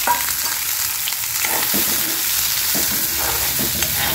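Chopped onion frying in hot oil in a pan, the start of a Bengali coriander chicken dish, giving a steady, close sizzle with occasional stirring scrapes and no voices.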